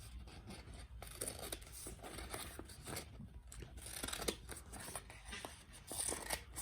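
Scissors cut paper strips for a craft project, with quiet, close snipping and rustling of paper in irregular repeated strokes.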